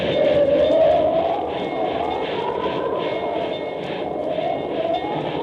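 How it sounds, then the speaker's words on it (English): A continuous rumbling train sound effect from a radio drama, with rhythmic clatter, moderately loud and steady, with a faint high whine drifting above it. "advancing by train toward the perilous pass at Medicine Bow"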